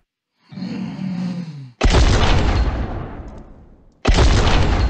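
Loud, sharp gunshot blasts ring out twice in the horror video game Fobia: St. Dinfna Hotel, each followed by a long fading echo, after a short rumbling lead-in, with no voices.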